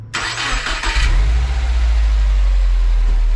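A Subaru WRX with a new Perrin radiator shroud cranks briefly, catches and settles into a steady, deep idle, close and loud with no voices.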